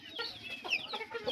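Chickens in a mesh-walled chicken shed cluck in quick, faint, irregular bursts, several birds calling at once at a moderate distance with no talk over them.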